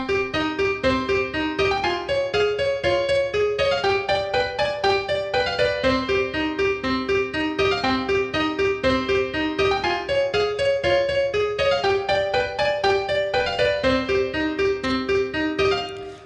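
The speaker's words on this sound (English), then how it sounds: "We had to use a Neapolitan 6 chord and write a simple melody with an Alberti bass." A piano plays a simple melody over a steady, rolling Alberti bass pattern in the left hand, using a Neapolitan sixth chord, evenly paced and moderately loud, with no voices.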